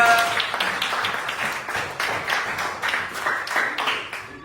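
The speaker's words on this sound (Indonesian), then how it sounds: "Tepuk tangan untuk Raya." Classroom students clap for a classmate leading at the front, a steady patter of many hands running throughout at moderate level.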